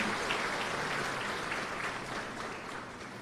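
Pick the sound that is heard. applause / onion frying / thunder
applause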